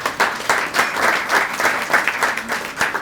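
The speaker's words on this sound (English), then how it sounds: "So give yourself a round of applause." Audience applause at a business community gathering, brisk clapping from a moderate-sized crowd with an uneven, pulsing rhythm, fairly close and sustained throughout.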